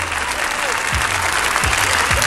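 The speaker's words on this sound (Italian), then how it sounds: "Io vorrei un applauso adesso veramente per la musica" Audience applause at an outdoor youth music festival show, steady dense clapping from a large crowd, loud and continuous throughout with a few low thumps underneath.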